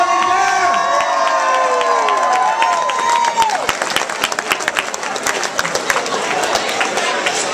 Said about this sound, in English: gave a little bit of applause for John, but come on, Jersey, give it up for your state chair!